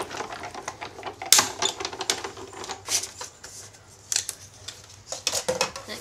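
A die-cutting machine cranks plates through to cut material, giving a series of close, irregular mechanical clicks and ratcheting clatters with a sharp snap early on, and no talk.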